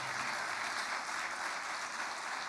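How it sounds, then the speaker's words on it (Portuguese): A church congregation claps together in a dense, steady wash of applause, loud and sustained from start to finish with no voices over it. "Você pode aplaudir o Senhor por isso?"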